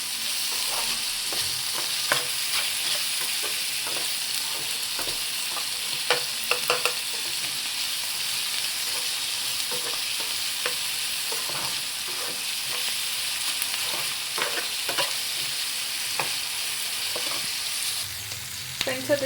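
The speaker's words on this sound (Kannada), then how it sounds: "ಚೆನ್ನಾಗಿ ಫ್ರೈ ಮಾಡ್ಕೊಂಬಿಡೋಣ." Food frying in a hot pan with steady sizzling and intermittent scrapes of a spatula as it is stirred, a continuous close hiss lasting throughout with no talking.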